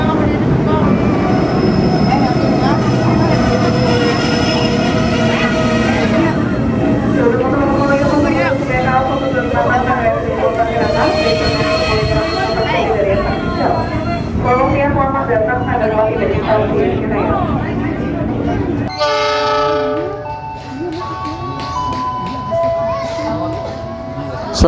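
A KRL JR 205 electric commuter train bound for Bogor passes through a station. A loud, sustained rail rumble and wheel squeal build and then ease, and a tonal horn sounds near the end, with people talking underneath.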